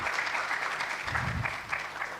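A conference audience applauding steadily, many hands clapping at once in a dense, continuous patter that holds from start to finish.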